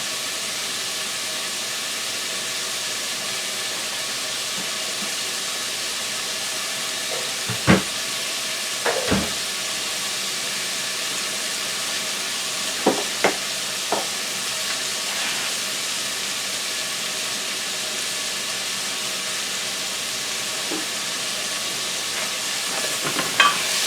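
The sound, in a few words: sautéing chicken in a pan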